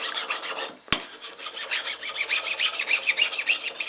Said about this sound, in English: But you just simply take a flat file